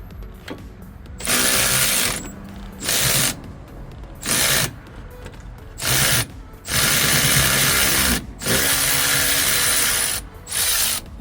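Bolts on the rear brakes of a Toyota C-HR worked loose with a ratcheting tool and 17mm wrench, close, loud bursts of rapid mechanical whirring and clicking that start and stop repeatedly, each lasting about a second.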